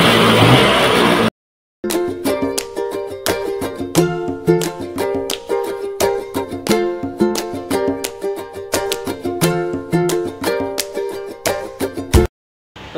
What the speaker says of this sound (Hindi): स्कूटर अपना एक किक में स्टार्ट है और कोई भी स्टार्टिंग प्रॉब्लम नहीं है और ना ही बंद हो रही है